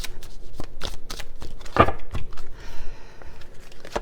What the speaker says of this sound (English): One last shuffle, right?